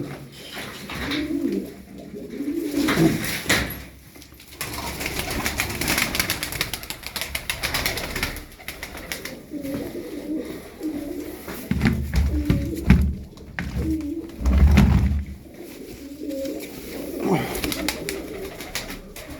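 Fancy pigeons coo repeatedly in soft, throaty phrases, several birds close by, with occasional wing flutters and some background murmuring voices.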